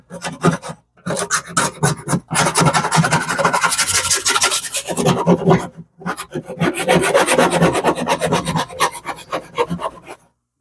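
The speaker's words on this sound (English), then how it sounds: "I'm going to do my best and scrape the top real quick" Hard-water buildup being scraped off the top edge of a fish tank: rapid rasping strokes in bursts with brief pauses, close and fairly loud, no talking.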